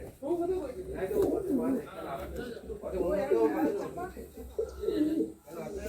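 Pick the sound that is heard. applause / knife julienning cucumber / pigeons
pigeons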